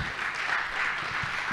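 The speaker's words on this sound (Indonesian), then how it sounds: "Boleh kita tepuk tangan sekali hadirin sekalian?" An audience claps together at a campus arts talk held by a student arts club at UIN Ar-Raniry in Banda Aceh, giving a dense, steady burst of applause that fills the whole moment without any speech.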